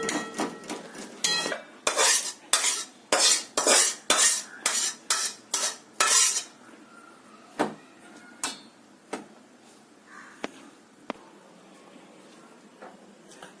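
A spoon scrapes and clinks repeatedly against a metal pot while scooping cooked gongura chana dal curry into a bowl, in a quick series of sharp, close metallic knocks that thin out to a few isolated taps.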